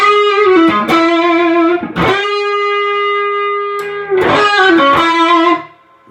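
Electric guitar driven through a super distortion effect, playing harsh, saturated sustained chords in three loud bursts with a held ringing note between, then cutting off at the end.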